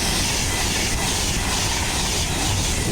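An Avanti train rushes past on the West Coast Main Line at Acton Bridge, a loud, close, continuous roar of wheels and air with no pause.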